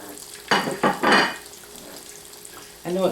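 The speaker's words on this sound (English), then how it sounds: "Got a good sizzle going there." Sweet potato pies fry in a cast iron skillet with a close, broad sizzle that swells in a few short bursts, then settles to a steady hiss, with a voice briefly heard at the end.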